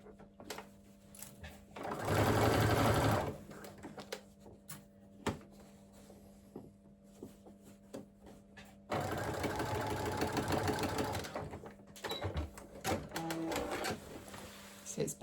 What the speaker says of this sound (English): use the basting stitching to attach it to the back of the front leg, and we'll just do this across the waist now